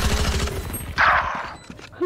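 Rapid gunfire bursts from a Valorant match ring out loud and close, with a sharp volley in the middle and more shots near the end, while players talk excitedly over it.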